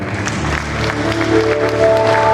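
Applause from the crowd at a Batak youth organisation's leadership inauguration in a Jakarta hall, moderate and steady, with a sustained musical tone humming underneath.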